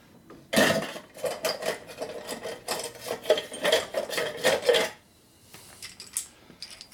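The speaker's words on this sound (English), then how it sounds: "You're just trying to get a new surface for the rings to seal against." A hone scrapes inside a Harley S&S big bore engine cylinder during a rering job, making rhythmic rasping metal-on-metal strokes, close and fairly loud, that stop abruptly near the end.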